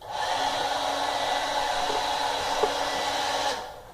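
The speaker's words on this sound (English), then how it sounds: "That was my hairdryer in the background." A hair dryer runs with a steady airy whoosh and motor whine for several seconds, then switches off and the noise drops away.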